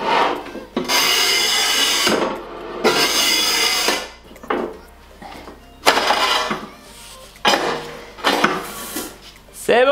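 A bathroom floor tile is cut on a second attempt, with repeated loud gritty scraping and grinding strokes separated by short pauses and clinks of tile and tools, close by.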